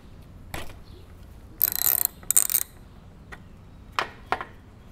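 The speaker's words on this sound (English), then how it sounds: "I'm going to now take the bolt off that holds the float bowl" A ratchet loosens the carburetor float bowl bolt on a Coleman Powermate 5kW generator with a Subaru/Robin engine, giving a few short bursts of close metallic clicking between isolated clacks and quiet gaps.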